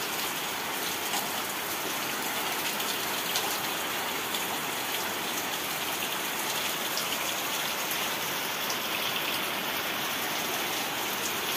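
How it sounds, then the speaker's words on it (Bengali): Heavy rain pours outside at night, a dense, continuous steady roar of drops on surfaces at constant loudness, with no voices. "বাইরে বৃষ্টি নেমে গেছে"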